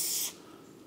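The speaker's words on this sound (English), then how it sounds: "I'm going to spray some liquid on it, trying to get it released" Penetrating liquid is sprayed from a can onto a seized race car brake part, a short airy hiss lasting a fraction of a second that then fades to a quiet background.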